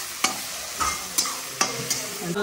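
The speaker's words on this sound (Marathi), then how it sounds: "तर कांदा टमॅटो मस्त फ्राय होतोय." Onion and tomato sizzle in a pan while a spoon scrapes and stirs, giving several sharp knocks at irregular intervals over a steady frying hiss, close and alone with no voices.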